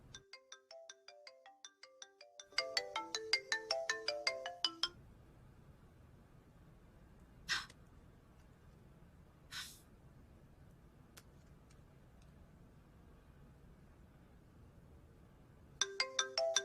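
A phone ringtone playing an electronic melody that rings out, pauses through a long quiet stretch with a couple of brief hisses, then starts ringing again, unanswered.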